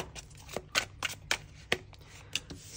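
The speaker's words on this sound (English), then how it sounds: "I'll give it a little shuffle." A deck of cards being shuffled during a reading, heard as a quick series of crisp riffling snaps and soft slaps, close and fairly quiet, with no talking.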